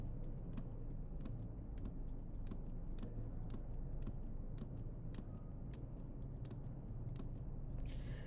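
Keys on a computer keyboard are tapped in an uneven run of crisp clicks, a few with longer gaps between them, heard quietly over a steady low background hum.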